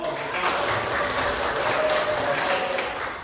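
A classroom group claps together in a short burst of applause, a dense patter of hands with some voices faintly underneath.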